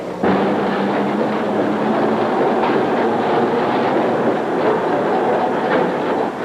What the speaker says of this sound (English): Trains come and go here every few minutes.